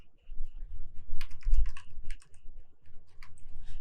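Master password typed on a computer keyboard, a quick run of close, crisp key clicks with short pauses between bursts, no talking.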